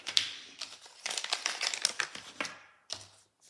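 Paper cash bills and envelopes being handled and shuffled during cash condensing, close crinkling and rustling in irregular bursts with brief pauses.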